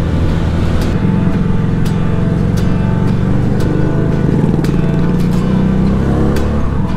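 FKM V motorcycle engine running loud and close, a constant rough drone that holds steady for several seconds with no voices.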